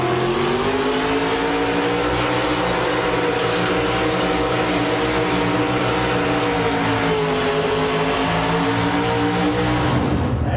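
Ford Ranger pickup engine straining under load during a four-wheel-drive truck pull, a loud sustained roar with rising pitch and a steady engine drone for about ten seconds, no talking.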